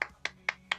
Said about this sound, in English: So there's my golf clap for the night for you.